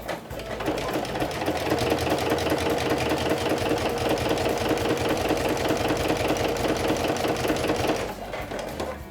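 A domestic sewing machine stitches through four layers of vinyl in a fast, steady, loud mechanical whir with rapid needle clatter, running continuously and stopping near the end.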